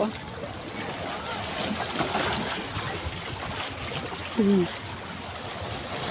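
Sea water washes against a sharp, rocky shore in a soft, continuous hiss and gurgle, with a brief voice heard close by partway through.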